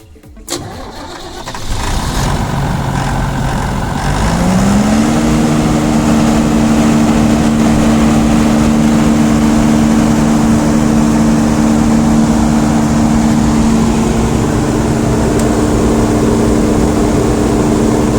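A Tata 125 kVA diesel generator cranks over and starts, then settles into a loud, steady low drone with a constant mechanical hum running uninterrupted to the end, with no voices.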